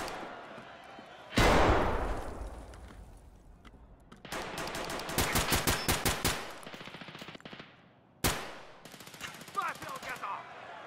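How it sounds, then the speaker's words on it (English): Gunfire in Escape from Tarkov's 3v3 arena mode: a loud single shot, then a rapid automatic burst of closely spaced rounds, and another sharp shot later, with a commentator talking in between. "They're shooting at each other."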